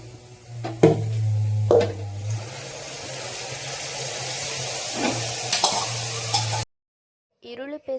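Ground onion paste fries in a pan with curry leaves, a steady sizzle broken by loud spoon scrapes and stirring knocks, ending abruptly.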